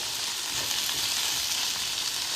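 Okra (bhindi) fries in a pan with a steady, dense sizzle and crackle that stays even throughout; no one speaks.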